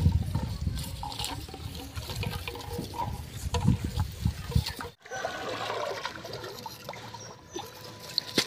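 Water bailed by hand into a canal at a rural home, splashing and trickling in uneven gushes close by, with a sharp break near the middle before softer pouring resumes.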